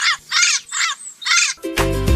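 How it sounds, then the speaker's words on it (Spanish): A parrot in a children's animal song gives four harsh, cawing squawks in quick succession, loud and close, followed by a bright burst of music. "Séptimo el loro, hablando y cantando así"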